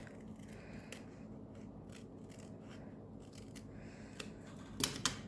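Scissors trimming a paper envelope pocket, soft sparse snips and faint paper scraping under a quiet background, ending with a couple of slightly louder crisp cuts.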